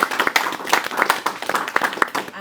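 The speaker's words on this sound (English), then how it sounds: "Give them a round of applause." An audience at a fantasy, sci-fi and horror writing event applauds three authors with dense, lively clapping close by that holds steady throughout.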